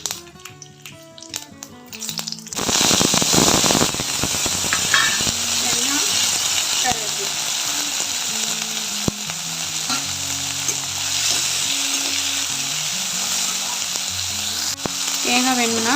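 Mustard seeds, urad dal and dry red chillies crackle and sizzle in hot oil, a loud continuous frying hiss with popping after a short stretch of quieter handling noise.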